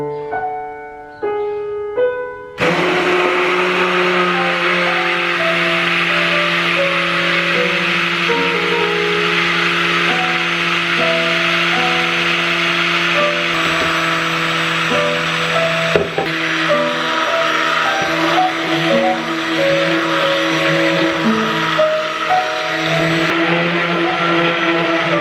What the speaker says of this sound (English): I've got my stick blender, and it's in there at an angle